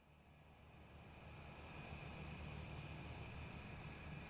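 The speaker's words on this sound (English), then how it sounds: "Got a jet leaving" A jet aircraft departs in a Microsoft Flight Simulator scene, a steady distant engine roar that swells gradually and then holds as a broad, even rumble.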